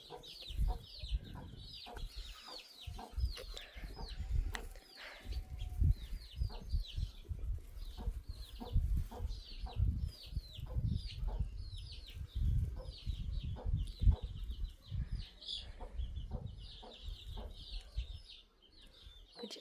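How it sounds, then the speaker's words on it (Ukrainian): Many small chirps and soft clucks from young fowl, busy and overlapping, with rustling and scratching underneath at a modest distance. "Курчата."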